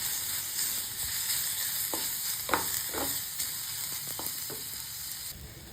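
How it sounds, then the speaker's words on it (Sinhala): Ginger, garlic, curry leaves and a piece of cinnamon fry in hot oil, giving a constant close hiss broken by a handful of crisp pops and light crackles. "තෙල් ටික රත් වෙනකොට ඉඟුරු සුදු ලුණු, කරපිංචා, කුරුඳු කෑල්ලකුත් දාලා තෙලෙන් හොඳට මලව ගන්නවා"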